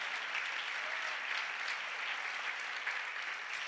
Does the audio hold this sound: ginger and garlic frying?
no